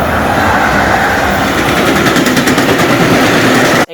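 A holiday train passes close by on the railway, a loud, continuous roar of wheels and cars with rapid rhythmic clattering throughout, ending abruptly.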